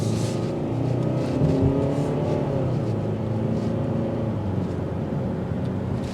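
A 2024 Hyundai Sonata SEL drives in sport mode, its engine giving a steady, moderately loud hum with road and wind noise that barely changes in pitch throughout.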